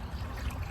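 A 1971 Kohler Wellworth round toilet refilling with water, heard as a brief, steady close trickle and rush of flowing water.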